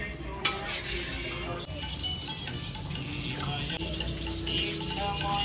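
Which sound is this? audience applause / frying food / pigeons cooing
frying food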